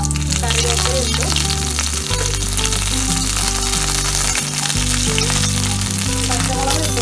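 Fennel seeds and curry leaves crackle and sizzle loudly and continuously in hot oil for a Kerala-style beef roast, close and dense, with a low steady hum underneath and no speech.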